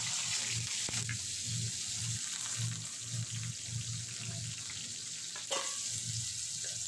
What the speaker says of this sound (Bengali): ওই তেলেই কোচানো পেঁয়াজ আর কোচানো গাজরটা দিয়ে দেব।